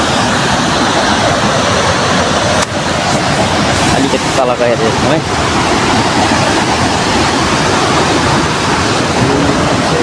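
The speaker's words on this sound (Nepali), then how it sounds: "यो चाहिँ हाम्रो गाउँबाट देखिने झरना हो।" A long waterfall seen from a Himalayan village roars loudly and steadily in a continuous wash of falling water that fills the whole scene. A person speaks briefly over it.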